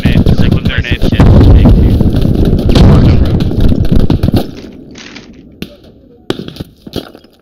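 Grenades go off in a team-based war video game, a dense stretch of loud blasts and gunfire that drops away into scattered sharp shots and thuds, with voices talking over the chaos.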